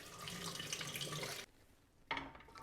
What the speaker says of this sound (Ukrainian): І заливаю водою.